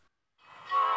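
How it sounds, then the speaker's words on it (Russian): A cartoon train sounds its horn in a children's animation: a steady tonal blast that swells in after a short silence and grows louder toward the end, heard alone. "Поезд."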